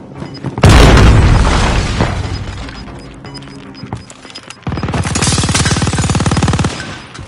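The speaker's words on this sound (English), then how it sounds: "Throwing out a grenade." A grenade explodes in a video game with a loud, broad boom that decays over a few seconds, followed by a second dense blast or burst of rapid gunfire rumbling close by.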